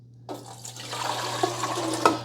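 Water is poured into the reservoir of a Keurig K-Supreme Plus coffee maker, a splashing, gurgling stream that starts suddenly and runs on steadily with a few sharper plinks near the end.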